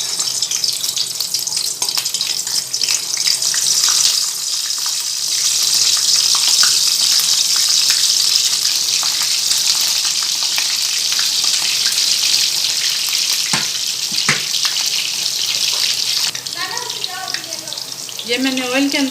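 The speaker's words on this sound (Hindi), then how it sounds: "अब इनको ऑयल में हम ब्राउन करेंगे।" Stuffed bitter gourd (karela) frying in oil in a pan, a loud steady sizzle and crackle close by that runs the whole time, with brief clattering and some water-like splashing near the end.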